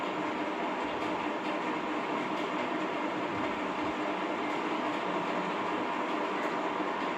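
Pieces of fish frying in a pan of hot oil give a steady, dense sizzle that holds at an even loudness throughout, with no voices.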